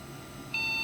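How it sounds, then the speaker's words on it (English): A computer with a Phoenix BIOS sounds a single long, steady electronic beep that starts abruptly partway through and holds at an even pitch, clear over a faint background hum. "This is a Phoenix BIOS, and I don't recognize this beep code. It's a single long beep,"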